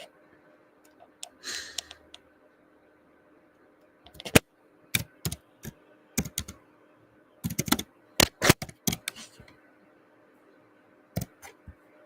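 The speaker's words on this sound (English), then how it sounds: "Let's type in" Typing on a computer keyboard, irregular bursts of sharp close key clicks separated by pauses, with a faint hum underneath and no talking.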